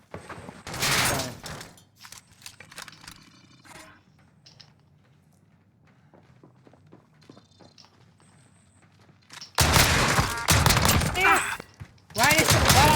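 A fire shotgun blasts repeatedly in a video game, with a quick burst of loud shots at the start, a quieter stretch of clicks and movement, then rapid heavy firing near the end.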